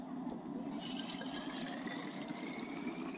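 Rainwater poured into the water container of a budget Aldi compressor sandblaster, a steady continuous gurgling trickle and splash of filling liquid, close and fairly quiet, with no talking.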